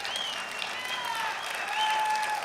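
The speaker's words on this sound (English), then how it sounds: "yes, you can applaud" A conference audience at a CPAC political event in St. Louis applauds in a steady, dense wash of clapping, sustained and fairly loud throughout, with no voices.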